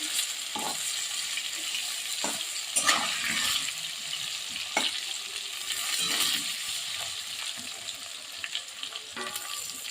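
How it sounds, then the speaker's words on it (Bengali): Potatoes frying with a little turmeric in a pan for a chicken and potato curry, a steady loud sizzle with occasional stirring scrapes and clinks, no talking. "আলুটা ভেজে নিচ্ছি ভালো মতো"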